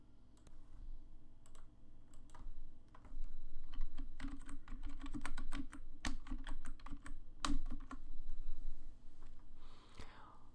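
Clicky typing on a computer keyboard, quick irregular keystrokes in bursts, fairly close and moderately quiet, ending with a brief rustle.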